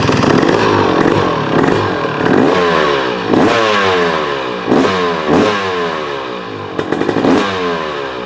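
A 2023 KTM 300XC two-stroke motorcycle engine, throttle body injected, revs repeatedly up close, with sharp blips rising and falling in a ragged rhythm over a crackling idle.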